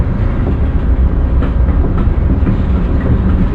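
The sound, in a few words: Amtrak Carolinian train wheels on the rail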